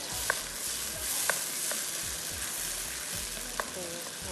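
Two finely chopped fresh tomatoes fry over high heat with a dense, even sizzle, close up and continuous, punctuated by a few sharp clicks of a spoon against the pan.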